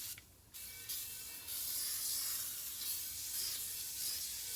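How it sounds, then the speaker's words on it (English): A steady hiss of aerosol oven cleaner spraying, starting with short bursts and then running continuously at close range. "I just spray oven cooking spray on the bottom."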